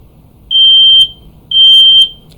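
A smoke alarm sounds its fire warning as two loud, piercing electronic beeps, each about half a second long and separated by a short gap, close by with no talking.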